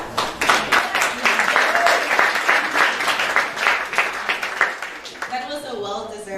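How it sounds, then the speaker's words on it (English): A lively round of audience applause at a charity arts gala, loud and close with crisp individual claps, tapering near the end as a voice begins to speak over it. "That was a well-deserved round of applause."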